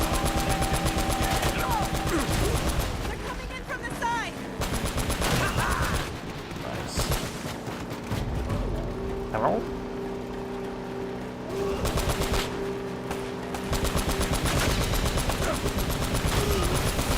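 Rapid bursts of gunfire crackle in a rail shooting sequence in the video game Uncharted: Drake's Fortune, with machine-gun rattles broken by brief lulls and mixed with vehicle rumble over about seventeen seconds.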